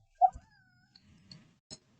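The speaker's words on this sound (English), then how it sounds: "What are you doing, cat?" A cat meows once with a clear, tonal cry near the start, followed by faint scuffling and a soft tap in an otherwise quiet indoor room.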